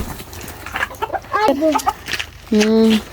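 Chickens cluck nearby in short scattered bursts, ending with a longer drawn-out squawk, over faint background noise.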